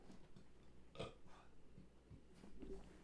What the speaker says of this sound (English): Sorry, I have to burp.